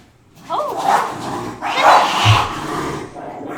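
A dog gives a couple of loud, close barks or gruff vocalizations indoors, mixed with a person's voice in a lively home setting.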